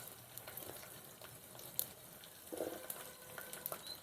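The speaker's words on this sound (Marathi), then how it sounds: "टोमॅटो फोडणीमध्ये चांगल्या प्रकारे शिजवून घ्यायचा आहे" Tomatoes frying in spiced oil tempering over a traditional wood-fired chulha for a village-style masala brinjal dish, a soft continuous sizzle with scattered crackles and a brief louder spatter burst partway through.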